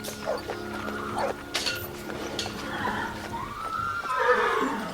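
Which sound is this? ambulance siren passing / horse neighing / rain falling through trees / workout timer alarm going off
horse neighing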